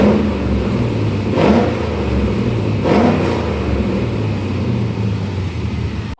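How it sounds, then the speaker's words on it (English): An LS3 V8 swapped into an LS1-generation Camaro or Firebird runs with a steady low rumble, with two brief swells in engine note partway through; no talking. "we got the cooling system all hooked up and let it idle all the way up to operating temperature"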